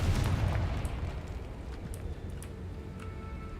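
A Confringo spell detonates in a Harry Potter video game, a deep booming blast that opens the clip and then fades into a soft rumbling tail with faint crackles.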